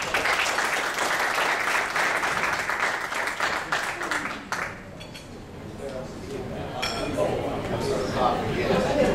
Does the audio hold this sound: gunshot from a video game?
no